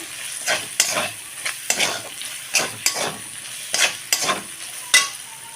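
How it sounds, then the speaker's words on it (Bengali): Soybean chunks being sautéed with biryani masala in a pan, a steady sizzle broken by repeated scraping stirs of a spatula at a fairly even rhythm, close and clear with no talking. "আমি লবণ দিয়েছিলাম আর দেব যে বিরিয়ানি মশলা দিয়ে এটাকে আবার ভালো করে একটু কষিয়ে নেবো"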